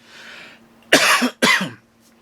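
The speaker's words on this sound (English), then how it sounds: "Excuse me, I'm gonna leave that cough in there." A man coughs twice in quick succession, two loud, close bursts following a faint breathy rustle, then quiet.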